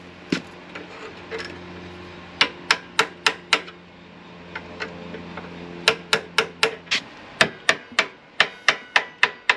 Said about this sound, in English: Get a beater, screwdriver, and a hammer.